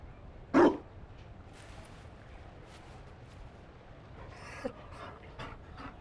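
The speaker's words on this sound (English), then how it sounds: "You found a dog?" A Mabari war dog pants in Dragon Age: Inquisition, one short burst of breathy huffs near the start, then a faint background hum with a few soft game sounds.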